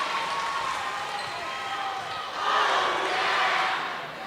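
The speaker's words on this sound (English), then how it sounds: "Crowd's getting into it a little bit." At a Minnesota high school volleyball match, the gym crowd cheers in a broad, reverberant roar that swells partway through, with the hollow echo of a large hall.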